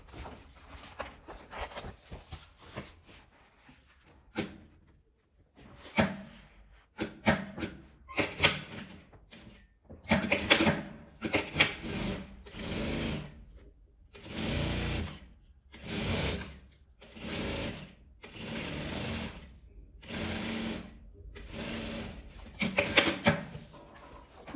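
A domestic sewing machine stitches a zipper onto a fabric toiletry bag in loud, rhythmic bursts of whirring, separated by short pauses as the fabric is repositioned.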